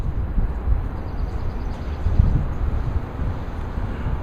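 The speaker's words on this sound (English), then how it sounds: "A little windy today" Gusting wind buffets the microphone beside San Francisco Bay, a low rumbling roar that swells and eases throughout, with no voices.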